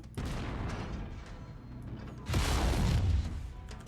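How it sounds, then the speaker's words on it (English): Mech weapons in MechWarrior 5: Mercenaries fire at an enemy cockpit, with a rumbling volley of booms followed by a louder, heavier burst of impacts about midway, set against mechanical background noise. "Go ahead and try shooting the cockpit."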